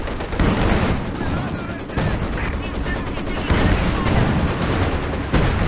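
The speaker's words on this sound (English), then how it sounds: "Long hits from the AT guns here" Anti-tank guns firing in a World War II strategy video game, with a steady stream of sharp gunfire and distant booms, repeated blasts under a dense battle din while a caster talks over it.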